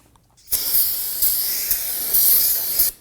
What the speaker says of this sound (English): Take some spray solvent, spray it down, and go ahead and wipe it down.